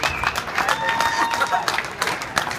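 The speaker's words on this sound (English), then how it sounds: "give her a big round of applause" A party crowd breaks into a round of applause, uneven clapping with cheers and talking mixed in, fairly close and loud.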